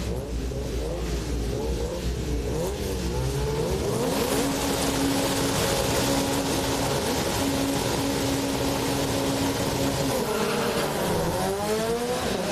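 Rallycross race cars at the 2019 World Rallycross of South Africa in Cape Town blast off the start line, loud engines revving and rising in pitch together, with tire squeal and commentary over the roar.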